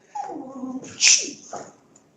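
A dog whimpers and yips in short, high bursts, with one sharper bark-like cry in the middle, close and alone.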